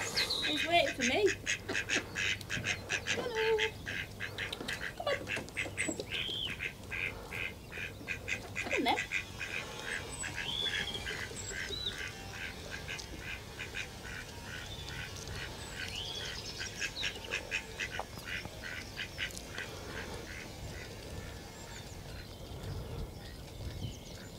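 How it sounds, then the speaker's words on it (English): Ducks quack repeatedly in a busy outdoor scene on the Norfolk Broads in February, with chirping birds and low rustling beneath, steady and moderately close. "trying to feed the ducks."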